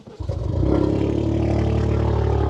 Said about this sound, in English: Let's start her up so I can show you the exhaust